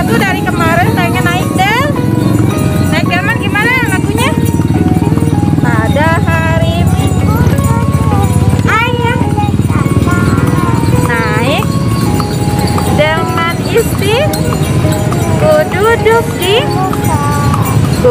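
Hooves of a horse pulling a delman cart clip-clop steadily through a lively evening street, the close rhythmic clopping running under constant chatter, singing and occasional vehicle noise.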